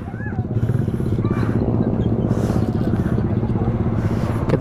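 An old Honda CB150R motorcycle engine idles close by with a steady rumbling throb while queued for a Sunday morning ride, with a voice and other traffic sounds around it.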